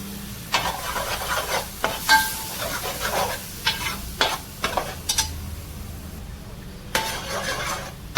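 Onion and tomato paste fries in oil for a fish curry, sizzling steadily while a spoon scrapes and clinks against the pan in irregular bursts.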